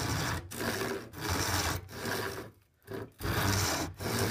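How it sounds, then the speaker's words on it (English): A handsaw cutting a shallow slot into a piece of wood, rasping back-and-forth strokes in a steady rhythm with brief pauses between them, close and loud, no talking. "So what I want to do is I want to cut that little slot."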